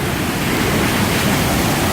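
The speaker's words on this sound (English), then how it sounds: "You can feel the mist coming off of the waterfall even from here." A waterfall plunging into a rocky plunge pool at Blakiston Falls roars as a loud, dense, unbroken rush of falling water.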